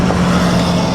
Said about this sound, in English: the engine note similar to the BMW engine